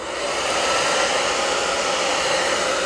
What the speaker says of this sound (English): I'm going to go ahead and use my hairdryer on this section now